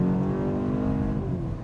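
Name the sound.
2025 BMW M235 Gran Coupe engine in Sport Plus mode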